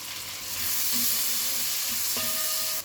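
Steady sizzling as chopped onion fries in a hot pan, a continuous crackling hiss that swells slightly as it hits the oil, no voices.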